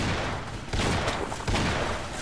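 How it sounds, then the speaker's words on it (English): Dense gunfire from the Half-Life co-op shooter rattles loud and continuous for about two seconds, with sharper bursts standing out in the volley. "Bombarded with bullets."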